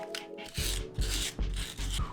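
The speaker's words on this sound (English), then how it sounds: "just grab your sandpaper and start rubbing gingerly around the outer edge of the circle" Sandpaper rubs around the edge of a cut circle for a light-up marquee sign, giving four or five close, rhythmic scratchy strokes in quick succession, with no voices.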